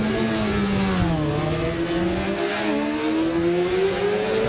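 Honda lightweight racing motorcycles at the Manx Grand Prix revving hard and pulling away from the start, rising and falling engine whine that climbs in pitch with gear changes, loud and close, with no voices.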